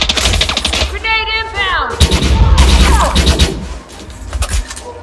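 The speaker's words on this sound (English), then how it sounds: "Grenade" A grenade bursts during an on-foot firefight in the video game Elite Dangerous Odyssey: a loud, heavy blast and crackle amid gunfire, with rising electronic whines and voices around it.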